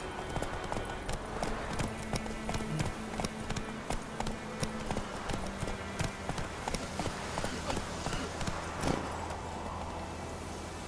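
Geralt's horse Roach gallops in The Witcher 3, a steady, brisk clip-clop of hooves close by with an even rhythm over a low background hum, continuing for about eleven seconds.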